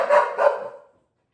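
Zoey, a dog demand barking for treats, lets out two quick, loud barks close by, the second trailing off into silence.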